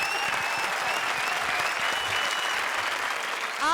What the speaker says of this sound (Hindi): जोरदार तालियां चारू शर्मा के लिए